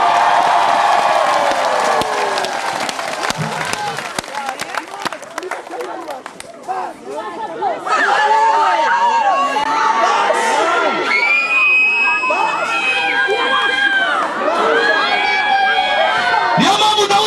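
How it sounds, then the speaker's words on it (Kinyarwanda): A church congregation bursts into loud cheering, whoops and clapping, with a dense crowd roar that swells in waves over about seventeen seconds. "Abemera kwibasha muyiha amashyi."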